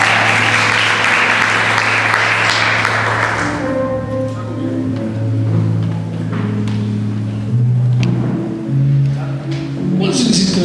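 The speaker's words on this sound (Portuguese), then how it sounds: "Uma salva de palmas para o Senhor, amém?" A church congregation at a youth worship service breaks into dense, loud applause for a few seconds. It then thins out as sustained musical tones and voices take over, with scattered claps continuing underneath.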